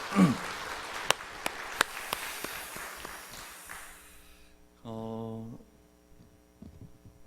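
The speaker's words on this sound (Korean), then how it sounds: "우리 감사와 영광의 박수 한번 같이 드리도록 그렇게 하겠습니다." Church congregation applause during a Sunday service, a broad rain-like patter of many hands that gradually thins out and fades, followed by a brief sustained hum.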